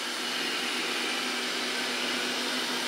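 An iHome AutoVac Nova robot vacuum with LiDAR runs on normal suction mode, giving a steady, even high whir and hiss with a faint tonal hum, constant and close, no voices.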